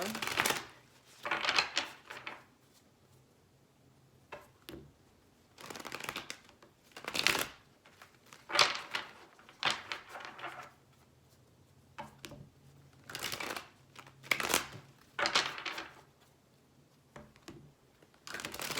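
Tarot cards shuffled in repeated bursts of riffling and bridging, crisp and close, separated by short quiet pauses, with a faint low hum underneath.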